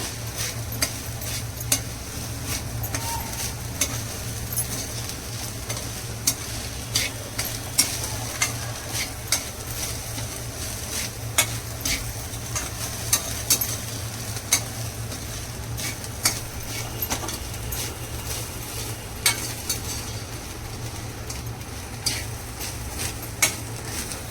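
Grated coconut stirred in a pan over a medium gas flame gives a continuous soft sizzle, broken by frequent spatula scrapes and light clicks against the metal, with no talking.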